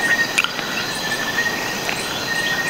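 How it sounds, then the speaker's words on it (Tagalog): Crickets chirp steadily at night in a foggy forest, a thin continuous trill with faint intermittent clicks and a soft wind-like background, no talking. "pabugso-bugsong tunog ng hangin, palaka, kuliglig"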